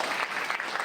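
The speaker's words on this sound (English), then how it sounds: "So can we have a big applause, please, for the Statesman?" Audience applause at a Statesman rural reporting awards ceremony in Kolkata, a brief, steady burst of many hands clapping together.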